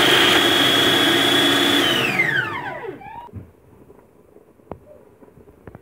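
A kitchen blender runs steadily on okra soup ingredients, then its motor winds down in a falling whine and stops, leaving near silence with a few faint knocks.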